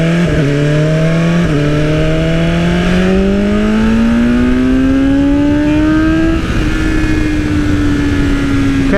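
A 2020 BMW S1000RR motorcycle with a flashed ECU revs steadily to 9,000 RPM, its loud engine tone climbing in pitch over several seconds, then easing back, close and continuous with no talk.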